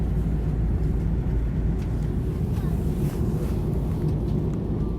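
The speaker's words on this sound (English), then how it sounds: "The plane was just so loud." Airplane cabin noise in flight, a steady, loud low-frequency roar and whoosh that never lets up, heard alone without talk.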